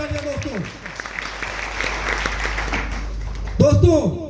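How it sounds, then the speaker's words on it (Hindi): Loud, dense audience applause at a network marketing gathering in India, swelling in the middle, with a voice heard briefly at the start and end. "मैं चाहूंगा जोरदार तालियां"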